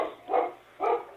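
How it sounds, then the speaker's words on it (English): A dog gives two loud, close barks about half a second apart, heard alone over a quiet background. "Sorry about the dog."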